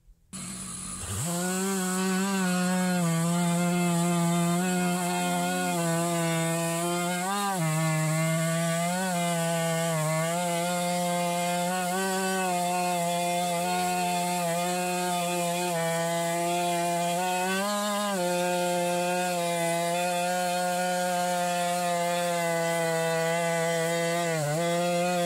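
A chainsaw mill cutting small logs: a loud, steady, close engine drone that holds nearly unchanged throughout, with slight pitch dips as the chain bites, no voices.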